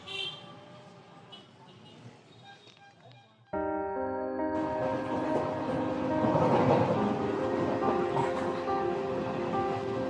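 Moving train crowded with evening commuters, a quiet stretch giving way at about three and a half seconds to a loud, steady rumble with rail noise that holds to the end; no clear talk.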